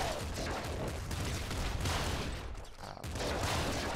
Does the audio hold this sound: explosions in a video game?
yes